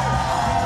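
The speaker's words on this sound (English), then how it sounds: "As he gets a rousing ovation from this crowd." A loud wrestling arena crowd roars and cheers in a dense, sustained wall of voices during a steel cage match, a brief rousing ovation heard close and unbroken.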